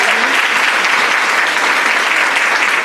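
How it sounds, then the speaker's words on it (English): Loud, dense applause from a large audience, steady and unbroken from start to finish. "Let's give him another round of applause."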